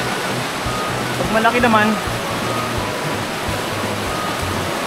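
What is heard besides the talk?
strong current of a river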